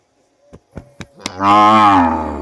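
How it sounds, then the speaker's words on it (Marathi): A buffalo lets out one long, loud, low moo from close by, preceded by a few sharp knocks or footsteps, out in the open while the herd is taken to graze. "आता आपल्याला घेऊन जायचं म्हशी चरायला"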